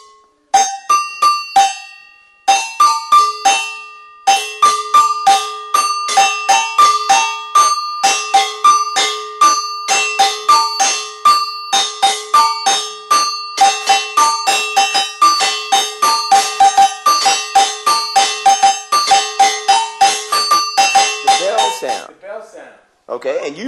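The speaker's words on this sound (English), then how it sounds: "a common term would be a go-go bell" An agogo bell is struck repeatedly in a quick rhythmic pattern with two ringing pitches, bright and close, with short pauses between phrases.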